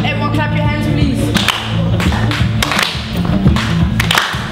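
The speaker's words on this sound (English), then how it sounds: "Can everyone clap your hands, please?" A group of young people in a youth achievers program claps loudly and repeatedly, with sharp, close slaps landing in an uneven rhythm over a steady background hum of music or voices.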